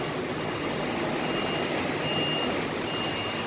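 A Sinar Jaya coach from Jakarta pulls into Tirtonadi bus terminal in Solo during rain, its heavy engine rumbling steadily beneath a repeating electronic reversing beep, with no voices.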